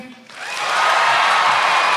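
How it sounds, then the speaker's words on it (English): A studio audience bursts into loud, dense applause and cheering after a brief quiet start, swelling within half a second and holding steady at full volume. "Can I get a quick round of applause if you have no fucking idea?"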